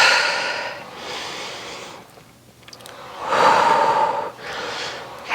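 During a Pilates reformer exercise, audible breaths rise and fall close to the mic in several distinct pulls of air separated by short pauses, with no talking.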